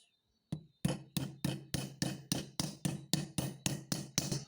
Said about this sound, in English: I flatten this, not completely, but quite a bit, and then do the hammer technique